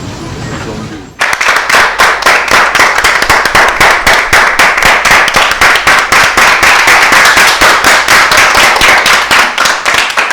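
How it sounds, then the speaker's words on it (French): Studio audience on a talk show breaks into sustained applause, dense and steady clapping that starts abruptly and continues loud and unbroken to the end. "La raison pour laquelle on applaudit encore et encore"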